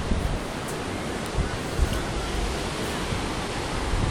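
Waves washing onto a beach fill the scene with continuous broadband surf noise, with wind buffeting the microphone and a few soft thumps, and no voices.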